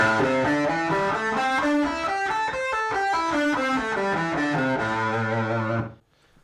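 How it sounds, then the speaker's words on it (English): A distorted electric guitar plays a steady run of single notes up and down the C pentatonic scale, each note ringing clearly and loudly before stopping abruptly. "those are the notes that are actually from the C pentatonic scale"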